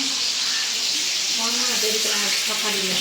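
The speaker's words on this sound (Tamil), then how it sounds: "மீனை வறுக்கிறியா" Fish sizzles and spits as it fries in a pan, a steady bright hiss with small popping bubbles. Voices talk faintly underneath.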